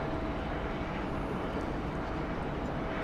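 A steady, faint roar of a jet airliner taking off from Sydney Airport heard at a distance, a continuous broadband rumble with no distinct peaks.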